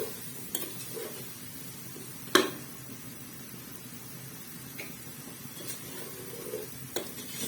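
Finely diced tomatoes go into a pot of white daal mash, followed by a spoon stirring and scraping against the pot with a few sharp metallic clinks over a faint sizzle, close and fairly quiet.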